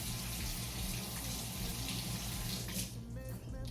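Tap water runs steadily into a sink while cooking greens are rinsed, a continuous close splashing hiss that eases slightly near the end.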